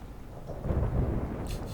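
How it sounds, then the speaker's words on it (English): Thunder in a TV show, a low deep rumble building and swelling briefly, with a faint hiss of rain on top, no voices. "The thunder."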